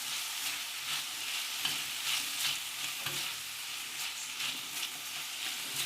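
Chilies stir-frying in a hot pan after garlic, a steady bright sizzle with repeated scraping stirs and clatters throughout, close and fairly quiet.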